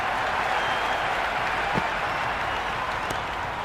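Stadium crowd in the cricket video game Cricket 26, a PSL 11 match between Islamabad United and Quetta Gladiators, sending up a steady, dense wash of applause and cheering at an even level throughout.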